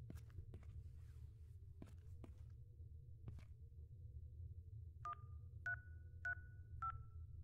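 A Stahlberg Steel employee phone being dialed in the video game INFRA, four evenly spaced keypad tones after a few soft footsteps and taps over a low hum.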